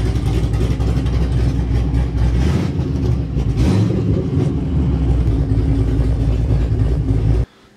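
A 2015 Chevy SS Camaro runs loud with no muffler and no back pressure, a steady deep rumble with a brief rise in revs partway through, close and constant until it cuts off abruptly near the end.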